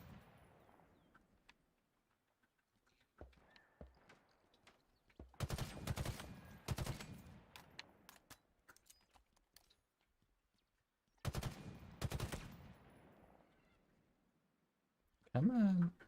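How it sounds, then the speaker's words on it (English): Battle rifle bursts in the Halo Infinite campaign, two clusters of rapid shots separated by quiet stretches, loud and close, with scattered game effects between. "Now we can just use the battle rifle."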